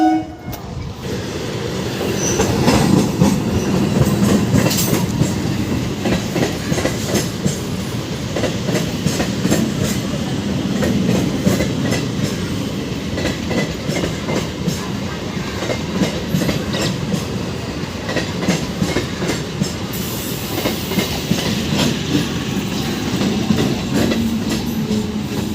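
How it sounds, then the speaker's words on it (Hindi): A passenger train pulls into platform 2 at Anand Vihar Terminal, with a steady rolling rumble of wheels and carriages and a horn sounding, over a busy station background and no talk. "अपनी जो ट्रेन है आ गई"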